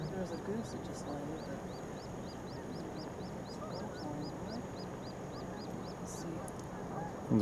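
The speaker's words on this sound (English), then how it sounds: "There's a goose that just landed." A steady run of rapid, high honks and quacks from distant waterfowl carries over a low rumbling background, faint and far off.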